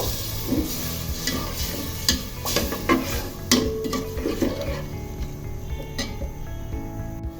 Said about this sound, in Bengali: এই পর্যায়ে আমি একটু পানি দিয়ে এখন মাছটা কষিয়ে নিব।